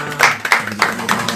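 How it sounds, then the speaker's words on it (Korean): A few scattered hand claps in a small church, greeting a missionary after her sermon and mission report; sparse, uneven bursts of moderate loudness over low room murmur. "우리 축복하고 우리 박수 한번"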